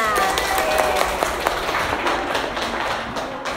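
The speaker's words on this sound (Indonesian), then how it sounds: "Tepuk tangan untuk kalian semua." Steady applause from a classroom of students, a continuous patter of many hands clapping together, fairly loud and close throughout.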